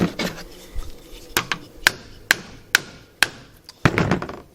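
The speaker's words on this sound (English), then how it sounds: "Take your hammer handle, tap, tap, tap. That goes in." Sharp wooden taps from a hammer handle driving a part into a Mk III/Mk IV mechanism, about seven of them at an uneven pace, close by, each a crisp knock with a short ring.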